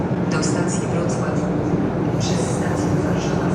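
A passenger train bound for Kyiv at a railway station, a steady low rumble with faint squeals and hissing over the top, and a voice talking over it throughout.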